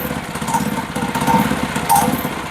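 A mini bike's small engine runs close by right after its air-fuel mixture is adjusted, giving a steady, buzzy drone with slight surges in pitch.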